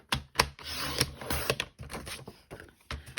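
Soft seafoam cardstock is cut on a paper trimmer for card making, giving a quick series of close clicks and sliding rasps with short pauses between strokes, and no talk.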